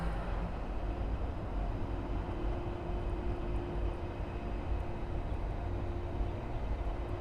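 An Iberia Airbus A330-300 arriving at Miami airport from Madrid gives a steady, loud, broadband jet roar that holds even throughout, with no break and no voices over it.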